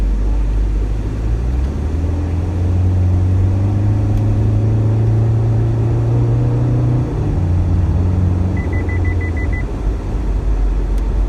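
An Isuzu mu-X 3.0 fitted with an aftermarket exhaust accelerates hard while overtaking, its engine drone rising in pitch over several seconds before easing off, heard from inside the cabin with a short electronic beep near the end.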